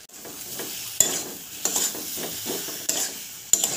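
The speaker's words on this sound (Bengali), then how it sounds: "এই মশলার সঙ্গে আলুটা দিয়ে কষিয়ে নেব।" Potato pieces sizzle in spice paste and tomato purée while being stirred for a Bengali chital fish curry, with a steady close frying hiss broken by several scraping stirs of the spoon against the pan.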